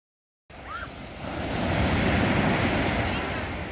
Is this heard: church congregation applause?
no